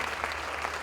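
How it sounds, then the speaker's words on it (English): Audience applause at the Malaika Tribute Awards ceremony, a dense, steady wash of many hands clapping with no break, moderately loud and continuous throughout. "Please let's be upstanding and give a better round of applause to Daddy Owen"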